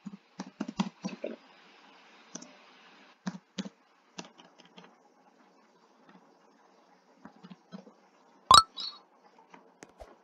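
Typing on a computer keyboard in short bursts of quick, close clicks separated by pauses, with one louder sharp tap near the end.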